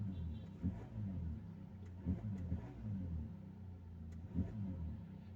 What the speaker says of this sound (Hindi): अभी एक्सीलेटर दूंगा तो इसमें एक साउंड आएगी, भारी साउंड आएगी